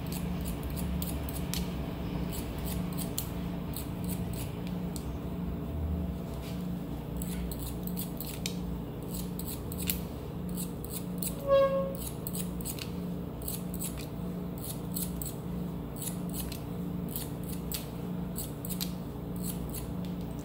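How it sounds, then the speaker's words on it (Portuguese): Scissors snip hair close by while texturizing a cut, with quick bursts of crisp clicks repeating in irregular clusters throughout over a low steady hum. "Essa tesoura é muito boa para fazer esse trabalho."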